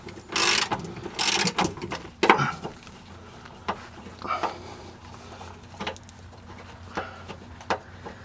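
Ratchet with an 18mm socket working a stubborn bolt on a Mustang GT during Panhard bar installation, heard as several bursts of close clicking and metallic ratcheting, then quieter intermittent clicks and knocks.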